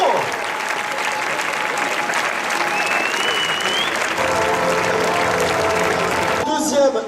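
Loud, sustained applause from a large crowd in the arena at Arles during a recortadores competition, with a French-speaking voice briefly audible over the clapping near the end.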